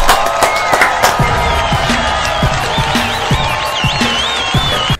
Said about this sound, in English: let's give you guys at home a round of applause.